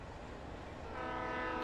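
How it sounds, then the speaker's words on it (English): Train passing in the video game Alan Wake, a close steady rumble and rattle of rail cars that swells slightly as a sustained horn-like tone joins in, with no talking. "Ooh, there's a train."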